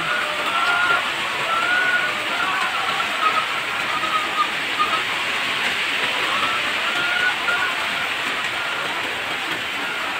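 Steady rain falling at a poultry farm where egg-laying hens are kept, a continuous even hiss with no breaks, fairly loud and close, with no voices.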